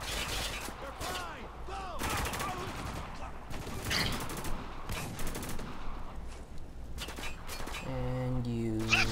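Gunfire during a sandstorm firefight in Spec Ops The Line, repeated rifle and machine-gun bursts crackling in irregular volleys, with shouting voices and a tonal game sound near the end.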